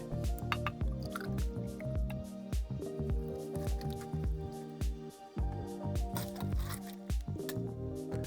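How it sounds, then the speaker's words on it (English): Bourbon being poured into a glass for a mint julep, with close gurgling, dripping and squishing liquid sounds that run steadily throughout. "I'm gonna put 3 ounces of bourbon in."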